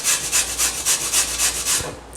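A hand grater rasps through a green papaya in steady back-and-forth strokes, about eight rhythmic scraping passes, close and fairly loud with no talking.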